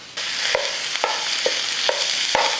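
A pound of ground beef sizzles in a pan with browned onion, a bright continuous hiss punctuated by about five spatula scrapes and taps, close and fairly loud, no voices.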